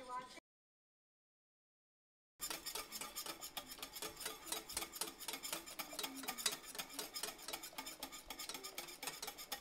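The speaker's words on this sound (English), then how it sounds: "Whisk until smooth and creamy." A tempered mixture being whisked into a milk mixture, a steady rapid scraping and clinking of the whisk against the bowl that continues after a short silence.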